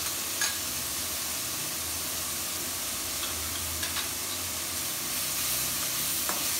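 Curry leaves sizzle in hot oil for mango dal, a steady close crackling hiss with occasional sharper pops and faint stirring.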